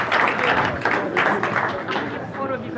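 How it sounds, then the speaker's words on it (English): A town hall audience in Glendora, California applauds its speakers with a sustained round of clapping, moderately loud and even throughout, blended with a murmur of crowd voices. "Can you give one more round of applause to our speakers?"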